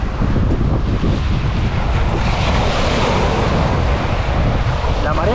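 Ocean waves washing onto a beach during surfcasting, a loud constant roar of surf mixed with heavy wind buffeting the microphone, close and unbroken.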